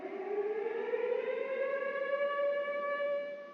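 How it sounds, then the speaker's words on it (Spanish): A civil defense siren sounds at the Hidroituango hydroelectric plant after dry tests of its first turbine, rising steadily in a loud continuous wail that holds and swells over a few seconds, heard alone without talk. "Cuando a las 2:30 sonó esta sirena, quedó confirmado el éxito de las pruebas en seco de los equipos de Hidroituango."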